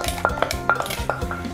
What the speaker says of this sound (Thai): จากนั้นก็ตำให้เข้ากันนะคะ